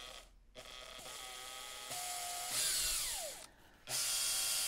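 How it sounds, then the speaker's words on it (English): A power drill with a 19 mm hole saw cuts plastic, whirring in bursts, rising and falling in pitch as it bites, with short pauses between runs; close and fairly loud. "We've got a 19 millimeter hole saw"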